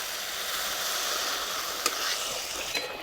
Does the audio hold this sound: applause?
no